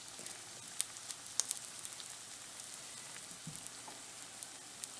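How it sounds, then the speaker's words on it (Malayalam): Bread pieces fry in hot oil, a faint steady sizzle with scattered soft pops and crackles, close by and without talk. "ഓയിലിപ്പോൾ ഇപ്പോൾ ചൂടായിട്ടുണ്ട് നമുക്കിതിലേക്ക് നല്ല ബ്രെഡ് പീസസ് ഇട്ട് കൊടുക്കാം"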